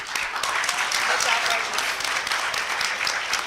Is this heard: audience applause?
yes